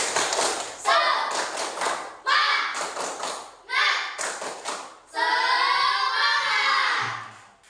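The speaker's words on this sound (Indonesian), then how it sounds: "Sekarang tepuk semangat." Children in a classroom perform a tepuk semangat clapping chant: bursts of rhythmic claps and taps punctuated by chanted voices, repeating in several phrases and ending in a louder shouted group cry.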